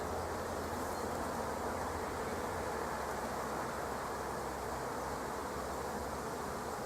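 Honey bee workers buzzing thickly around open hive frames, a continuous dense drone with no pauses and no voices.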